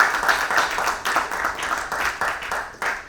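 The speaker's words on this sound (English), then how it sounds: "Can we give a loud round of applause to our panelists" An audience applauds panelists at a discussion event, a dense, moderately loud round of clapping that carries on steadily with slight swells and no speech over it.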